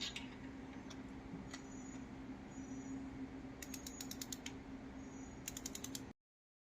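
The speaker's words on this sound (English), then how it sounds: "time to get the torque wrench. We're going to get it set, and we'll get this tightened up" A torque wrench tightens spark plugs on a 2006-2011 Honda Civic 1.8L, giving soft ratcheting clicks and a few sharp ticks over a steady background hum, close by and fairly quiet, no talking.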